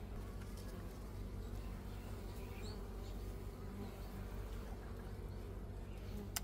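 Honeybees buzz steadily inside an open hive full of new brood, a dense, faint, continuous hum with no talk.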